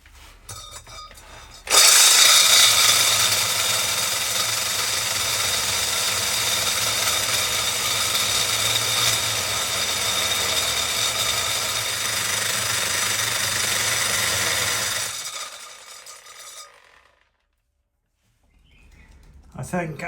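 A power drill runs loud and steady for about thirteen seconds during a dust collector move, a constant grinding drone that starts abruptly and winds down into near silence before faint noise returns.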